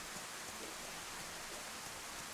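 Steady rain hisses across the world of the video game DayZ, a dense, even wash of patter with no gaps, moderately loud, with no talking.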